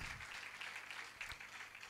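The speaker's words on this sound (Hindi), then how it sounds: "ज़ोरदार तालियां बजाएं खुदावन खुदा के लिए खुदा बेटे के लिए और रोहुल कुछ के लिए ज़ोरदार तालियां" Church congregation clapping during an Urdu-language service: a soft, steady wash of applause heard at a distance, continuous and even throughout with no voices standing out.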